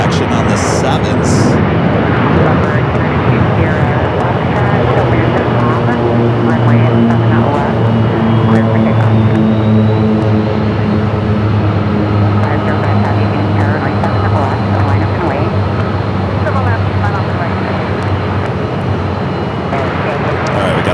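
Jet airliners take off one after another on runway 7 at Phoenix Sky Harbor, seen from near a taxiway: a loud, sustained engine roar with a steady whining tone runs from start to finish, close and powerful.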